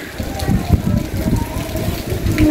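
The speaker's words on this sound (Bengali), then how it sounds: "এই বৃষ্টি তো পড়তেছে, তার সাথে বাতাস সব আছে।" Rain lashes down during Cyclone Remal in Rangpur, a dense, steady hiss with gusty rumbling underneath, close and fairly loud with no voices.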